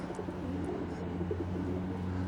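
A faint, low cooing of racing pigeons drifts from a netted loft, muffled under a constant low hum with a few soft chirps.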